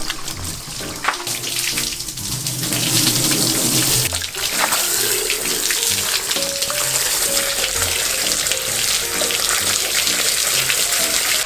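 Tap water runs continuously into a sink while a large fish is rinsed and washed, a steady splashing hiss with occasional knocks and shifts in the flow, close and fairly loud, no voices.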